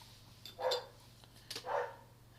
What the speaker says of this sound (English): And you might be able to hear that dog barking in the background.